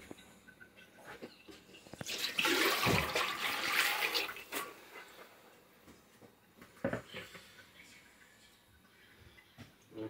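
Water poured from a vessel into an iron karahi set over a wood fire for a lamb and courgette curry, a loud splashing burst of a couple of seconds followed by a shorter splash and quieter dripping.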